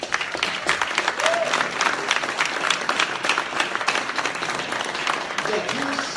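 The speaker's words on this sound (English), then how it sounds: "The next round of applause!" An audience at a Speck&Tech lightning-talks tech event bursts into loud, dense applause that lasts throughout, mixed with cheering and voices.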